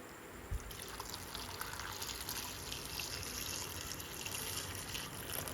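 Steady running water with soft splashing and sloshing as jackfruit is rinsed, a continuous wash of sound with no talking.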